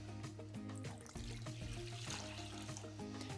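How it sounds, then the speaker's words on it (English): Apple cider vinegar pouring into a small kettle to make pickle brine, a close, steady liquid trickle with no talk. "For the brine, in a small kettle here, I'm gonna put some apple cider vinegar."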